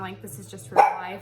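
A pet dog barks once, sharp and fairly close, in a home while a person keeps talking over it.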